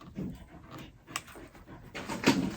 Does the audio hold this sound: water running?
no